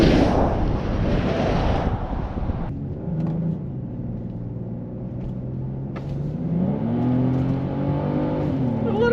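A 2022 BMW X3 M40 and a 2022 Genesis GV70 3.5T roar past in a drag race, loud engine noise that drops away and then swells again as a vehicle accelerates, with wind buffeting the microphone.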